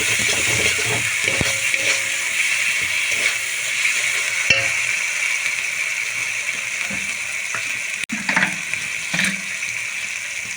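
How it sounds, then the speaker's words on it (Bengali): Masala with Kashmiri chili powder and salt frying in a pan, a steady close sizzle with a few scraping stirs and clinks breaking through. "মশলাটা আমি খুব ভালো করে কষিয়ে নেব।"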